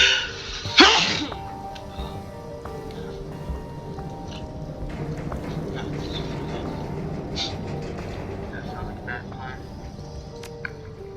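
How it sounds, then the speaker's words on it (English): A person sneezes once near the start, a sharp, loud burst at close range. Quieter room noise and low murmuring follow it. "I had to sneeze."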